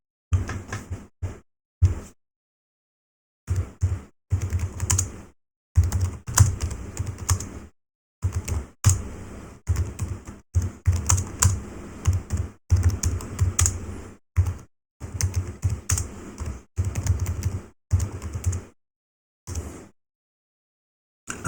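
Rapid computer keyboard typing in irregular bursts separated by short pauses, close and fairly loud, with no talking.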